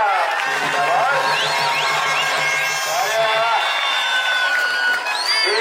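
A lively outdoor crowd at a live wrestling match cheers and whoops steadily, with whistles and shouts rising over a constant roar of voices.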